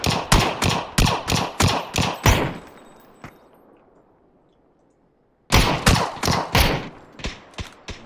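Bursts of rapid QBZ and Vector gunfire at close range in a PUBG-style shooter: two loud strings of evenly spaced shots, a long decaying echo and near silence between them, then a final quicker volley.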